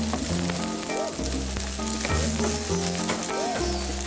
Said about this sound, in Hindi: इसे हम इस तरह से भून लेंगे ज़रा तेज आंच से